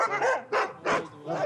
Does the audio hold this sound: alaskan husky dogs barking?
yes